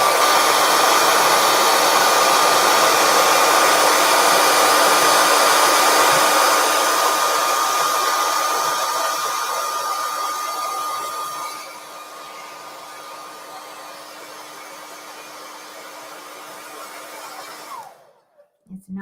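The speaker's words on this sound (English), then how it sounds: "Let me grab my handy dandy blow dryer" A hair dryer blows with a loud, steady whine and rush of air, dropping to a lower setting midway before switching off near the end.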